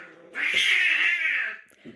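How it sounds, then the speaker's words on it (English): Two cats fighting indoors, one long loud yowling caterwaul swelling up and holding before breaking off, followed by a short thump. "can you imagine the cat fight that is happening right now?"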